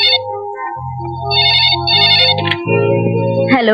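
A telephone rings with a loud, close electronic melodic tone, the pattern repeating in a steady rhythm, heard alone in a scene from a 2002 Hindi film.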